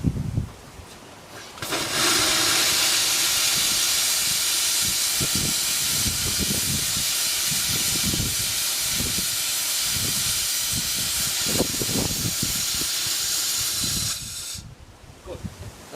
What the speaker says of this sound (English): what it does is blow steam through